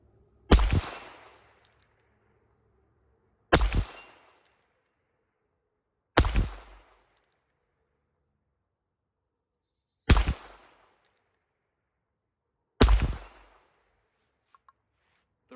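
An H&R 686 revolver fires five widely spaced shots, each a sharp loud crack with a short ringing decay, in .22 LR or .22 Magnum at a steel target 80 yards away, with near silence between shots.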